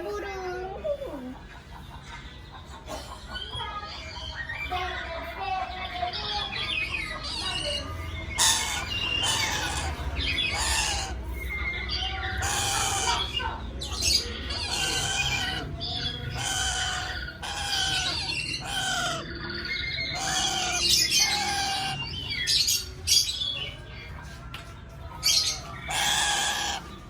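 A pet bird squawks angrily in repeated harsh, shrill calls at close range, coming in uneven bursts over steady background noise, with people talking underneath.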